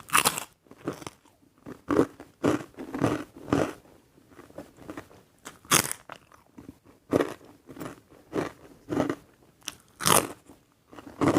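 Close chewing of rendang jengkol with quail eggs and stir-fried long beans, loud repeated crunchy bites and wet mastication in a steady rhythm, no talking.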